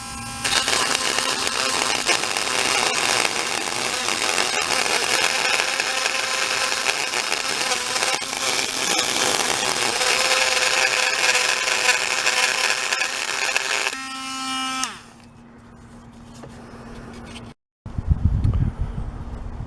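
Dremel-type rotary tool fitted with 400 grit sandpaper sanding corroded spots on an aluminum rim of a Tahoe, a steady high whine with grinding noise for about fourteen seconds, then spinning down, followed by low handling noise.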